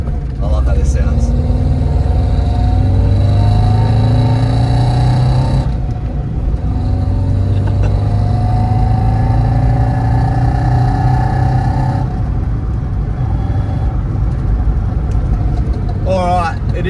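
A budget-build Subaru wagon's engine runs steadily and loudly up close, with a low rumble and shifting harmonic tones as the revs rise and settle across the whole stretch, and brief noises overlaying it.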